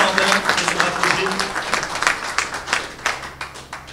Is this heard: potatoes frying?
no